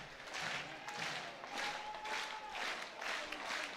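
Crowd cheering and applauding at a college baseball game in a stadium, a distant, steady roar with swelling waves of noise and no close voices.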